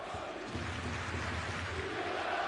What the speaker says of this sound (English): enthusiastic applause from the Milan fans here at the MIlano Forum